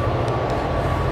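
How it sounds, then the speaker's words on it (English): A train passing close to a canal boat moored beside a pub on a spring day, a steady loud rumble of wheels and carriages rolling by without a break. "Train!"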